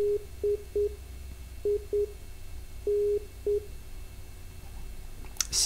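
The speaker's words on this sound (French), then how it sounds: "C'est l'indicatif morse de la station." A VOR navigation station's Morse code identifier repeats through an aircraft navigation radio as clear, mid-pitched short and long beeps in a steady pattern over faint background hiss.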